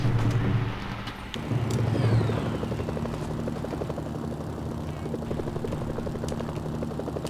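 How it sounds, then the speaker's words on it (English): Helicopter in the video game Mercenaries: Playground of Destruction, a steady loud rotor drone with rhythmic blade chop running throughout, alongside game engine and ambient noise. "This time I'm going to try to not shoot my own helicopter."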